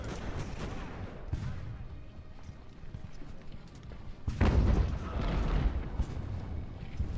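Cannon and musket fire in a naval battle in the Ultimate Admiral: Age of Sail game, a continuous rumbling barrage of booms and crackling shots that swells louder partway through.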